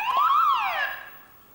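A game show buzzer or signal sounds once, a bright falling wail with rich harmonics that swoops up and then slides down over about a second before fading out.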